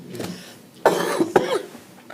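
A person coughs a few times in quick bursts at a city council meeting, one harsh cough followed by a couple of shorter ones, close and clear.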